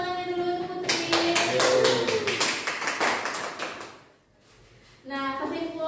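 A classroom of students clapping for a classmate, a burst of brisk, fairly close applause lasting about three seconds that fades out, with a teacher's voice before and after.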